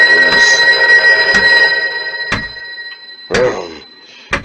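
An old-fashioned telephone bell in a farmhouse kitchen rings in loud repeated bursts over a sustained electronic tone, with sharp clicks between rings.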